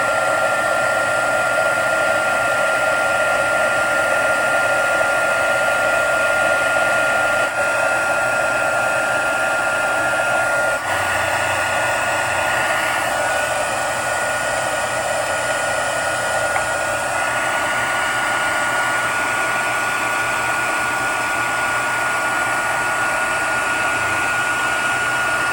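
Handheld embossing heat tool blowing hot air to heat-set embossed Christmas card stamping, a steady loud whirring hum with a faint pitch shift partway, running alone throughout.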